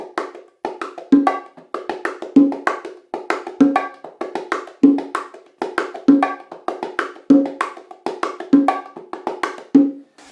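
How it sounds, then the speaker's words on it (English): A close hand-drum martillo groove with an open-tone accent from the left hand: quick, evenly spaced slaps and taps, and a ringing, higher open note landing regularly on the anticipated last sixteenth of each bar, alone with no voices. "we're going to add in one of the open note accents on the left hand"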